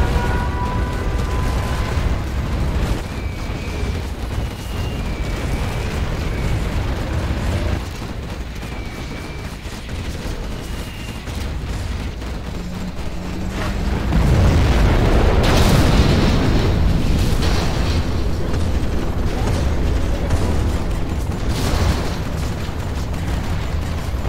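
Nuclear missile launch and detonation in the video game Command & Conquer Generals, a steady mechanical battlefield rumble with small pops, then a heavy booming blast midway that swells and rolls on loudly before easing.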